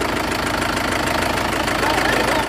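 A loud, rumbling tractor engine runs steadily with a rough, knocking vibration, close by and continuous with no speech.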